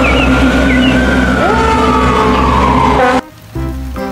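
A toy fire truck siren wails loudly with a slowly falling tone over a steady electronic hum, then cuts off abruptly and gives way to brief quieter beeps.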